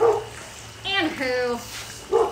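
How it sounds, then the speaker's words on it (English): Dogs bark and whine at a deer outside, with a short bark, a drawn-out whimpering yelp, then another bark, heard fairly close in a home kitchen. "The dogs are barking at the deer."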